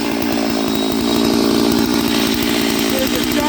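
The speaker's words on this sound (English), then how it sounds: "There's a Chinese chainsaw mill. It's like the Alaskan, but it's all a knockoff." A Chinese Alaskan-style chainsaw mill driven by a knockoff Stihl 660 chainsaw of 92 cc cuts long wood slabs. The saw snarls loud and close with a steady, raspy whine throughout, and no one speaks.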